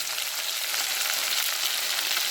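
Chopped tomato hits hot oil in a pan with a steady, dense sizzle, close and even throughout with no voices.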